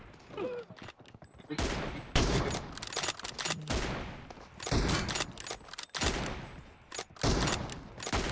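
Rapid gunfire bursts from an M24 team deathmatch shooter game, loud repeated volleys and fusillades crowding the whole stretch, with brief gaps between clusters of shots.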